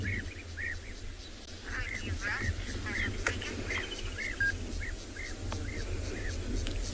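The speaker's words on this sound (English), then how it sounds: "Just have a listen to all of the bird sounds around us at the moment." Many bird species call together at sunset in the Tswalu wildlife reserve, with repeated chirps and whistles over a steady hum of ambient insects and wind, continuous and moderately loud with overlapping voices.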